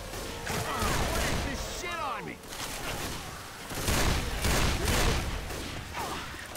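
Rapid bursts of gunfire in the video game Left 4 Dead 2, loud and dense, with zombie growls and excited voices talking over the shooting.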